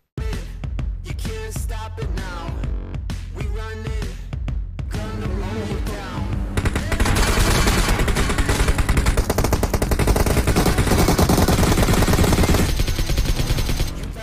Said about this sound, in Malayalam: എന്തിനാ ആളുകൾ പടക്കം പൊട്ടിച്ചേ